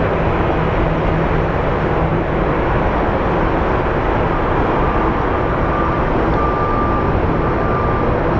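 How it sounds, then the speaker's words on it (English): A Boeing 767 airliner taxis at Phoenix Sky Harbor airport with a continuous, loud jet-engine roar and broad rushing noise, and the sound stays steady throughout. "the 767 is moving, and so is our Air Canada flight"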